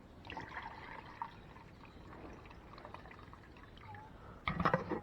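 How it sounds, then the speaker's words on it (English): Water sloshes and trickles as rice is washed outdoors for a Jamaican salt fish stew, a soft steady stirring and rinsing close by that ends in a brief louder splash. "Can't be until much, then you wash your rice."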